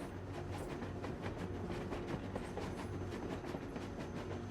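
A broken-down train in the video game Industria rolls along with a steady, continuous rumble and rhythmic clickety-clack of wheels on track, evenly loud throughout with no voices.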